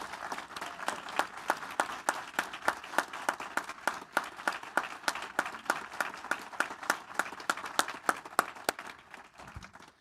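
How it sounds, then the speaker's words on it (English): Audience applauding chamber musicians, including a cellist, at a Rotary holiday celebration; the clapping falls into a fairly rhythmic, unison beat, a steady pulse of sharp claps that carries on for ten seconds before easing off. "Please join me in giving them a round of applause."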